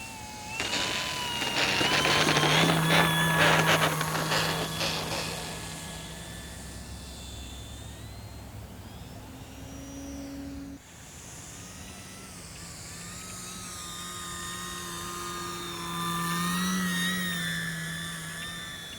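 An E-flite Timber 1.5m radio-controlled airplane flies overhead with a steady electric motor whine that rises and falls in pitch as it passes, louder at first then fading, with wind noise and no talking.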